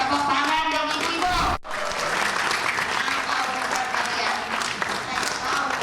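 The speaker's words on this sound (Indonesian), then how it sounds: "Tepuk tangan dong ibu-ibu." Audience applause at an Indonesian political gathering, where women in the crowd clap in a dense, steady burst for several seconds. A short speaking voice comes just before the clapping.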